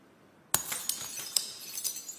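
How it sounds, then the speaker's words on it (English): Glass breaks with one sharp crash, followed by a scatter of tinkling shards landing over the next couple of seconds, close and clear with no voices. "And breaking of glass can indicate the end of a relationship or a friendship."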